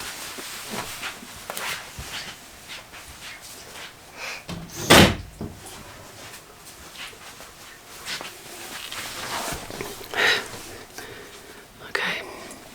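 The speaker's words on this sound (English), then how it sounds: "That's his door banging." A sliding door bangs through an open window, one loud thump standing out mid-clip with a smaller knock later, amid background room noise and some faint speech.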